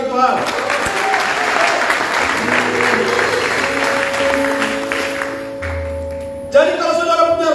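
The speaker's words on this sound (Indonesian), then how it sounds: "Beri tepuk tangan bagi Tuhan." A congregation applauds in a hall during a church sermon: steady, loud clapping that holds for about six seconds, then stops abruptly.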